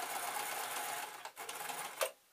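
A sewing machine stitches a reverse seam on the lining of a make-up bag: a close, steady mechanical whir for about a second, a short pause, then a brief final burst of stitching.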